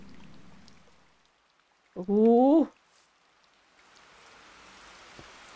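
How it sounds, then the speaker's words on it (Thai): Rain falls in the Minecraft video game as a soft, steady hiss that fades and returns, broken by a brief exclamation from a nearby voice. "ทำไมฝนตกมันเล่นฝนตกได้น่ากลัวขนาดนี้ล่ะ"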